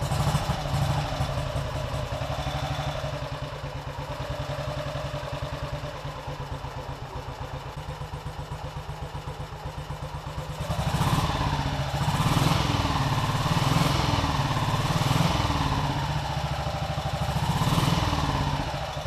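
A Panther motorcycle with sidecar, kick-started, idles with a steady, chugging clatter, then revs up in several rising and falling surges.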